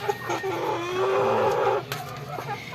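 Close, loud clucking from chickens, a drawn-out rising call followed by shorter clucks, with some background noise.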